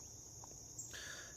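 A steady high-pitched trill of crickets fills the quiet, continuous and faint, with a second chirping layer joining partway through.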